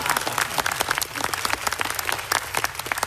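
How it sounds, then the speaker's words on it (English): An audience at Canada's Space Strategy unveiling applauds loudly, a dense, continuous clapping from a large indoor crowd throughout. "applaud really loud"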